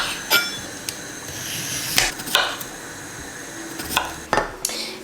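A knife slices through cucumber on a cutting board, a handful of sharp, irregular chops and taps close by with faint kitchen clinks between them.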